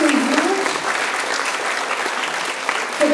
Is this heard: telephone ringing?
no